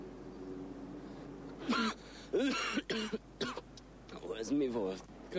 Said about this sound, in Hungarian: Mi volt? Köhögtél.